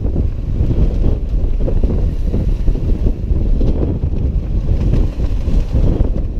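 A single-handed sailboat running downwind on an open-ocean passage from Beaufort, North Carolina, to the British Virgin Islands, steered by a Cape Horn wind vane: a steady, loud roar of wind and rushing water that continues throughout.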